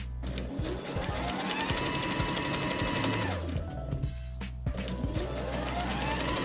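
A sewing machine stitches a double seam along a lehenga hem, whirring steadily and close, with brief pauses and a speed change partway through.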